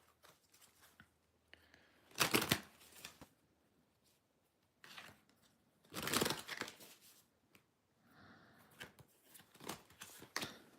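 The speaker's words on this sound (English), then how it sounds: "I'm going to pull another card." Tarot cards being pulled and shuffled during a Virgo reading, coming in three loud riffling bursts with softer handling and slides between them, close and without talk.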